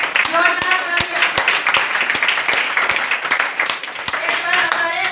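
Audience at a business gathering clapping in a steady stream of sharp hand claps, with a voice talking over the applause throughout.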